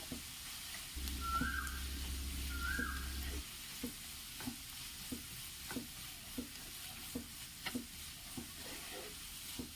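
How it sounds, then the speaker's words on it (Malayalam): Crushed ginger and garlic sautéing in a pan, with faint sizzling under a series of regular scraping stirs, plus a couple of brief high whistle-like tones early on. "ഇഞ്ചി വെളുത്തുള്ളി ചതച്ചതും കൂടി ഇട്ട് കൊടുത്തിട്ട് നമുക്ക് നല്ലതുപോലെ ഒന്ന് വഴറ്റി എടുക്കണം"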